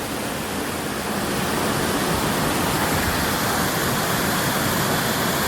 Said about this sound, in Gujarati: આ પ્રકૃતિનો સુંદર નજારો મિની ધોધ અમારા ઉમરપાડા વિસ્તારનો